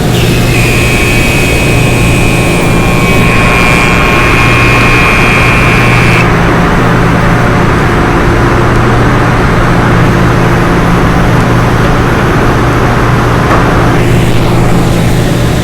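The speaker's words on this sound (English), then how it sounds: "Then it's pushed into the machine that's going to put a bag around it." Cotton gin machinery presses and bags a 500-pound cotton bale, making a loud, steady industrial roar and hum that continues throughout with no voices.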